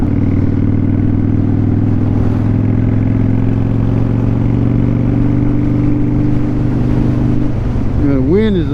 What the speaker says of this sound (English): The wind is about to blow me off the bike, really.